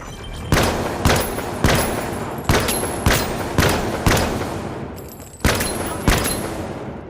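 Gunfire in the video game The Finals, about nine loud separate shots with reverberant tails spaced roughly every half to one second, heavy and booming, with no talking over them.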